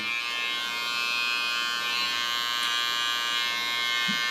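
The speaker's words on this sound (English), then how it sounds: "Take the tip of my clipper and give a rounding." An electric hair clipper buzzing steadily at close range as it trims around the ear during a short pixie cut, a constant even hum with no speech.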